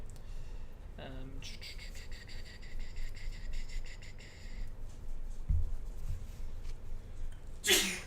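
A single sharp sneeze bursts out early from a player during a Grand Archive card game practice session, followed by quiet rustling and faint background activity, with another abrupt noise near the end.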